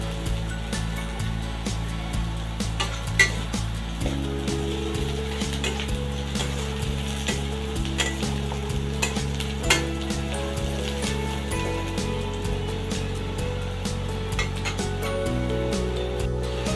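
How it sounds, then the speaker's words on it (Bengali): Sliced onion frying in a pan for a bread upma breakfast, a steady close sizzle with faint scraping clicks of stirring, under a constant low mechanical hum, no talking. "পেঁয়াজটাকে একটু লাল লাল করে ভেজে নেব।"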